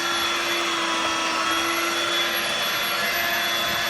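A Dirt Devil Vibe 3-in-1 corded stick vacuum cleaner runs steadily close up, a loud constant motor whine with a high, even pitch and no variation, with no one talking.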